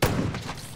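A single gunshot in the Jagged Alliance 3 video game, a sharp, fairly quiet crack with a short rumbling tail that fades within a second.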